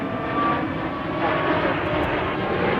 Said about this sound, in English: Another Southwest flight, just to our right here.